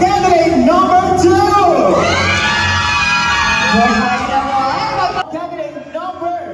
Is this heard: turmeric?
no